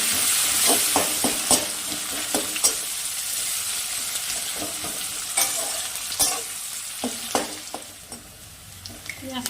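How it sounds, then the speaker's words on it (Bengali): Chopped onions sizzle steadily in a pan for ghugni while a spoon stirs them, with frequent scraping clicks over the constant close frying hiss. "এবার আমি এর মধ্যে কেটে রাখা পেঁয়াজ কুচিগুলো দিই। পেঁয়াজ কুচিগুলো অল্প আমি লাল করে নেব"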